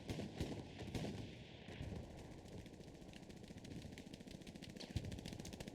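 Tank gunfire in Hell Let Loose as a Luchs fires on a Panther, with rapid rattling automatic bursts and sharp shots crackling over a low rumbling battlefield backdrop, fairly distant and continuous.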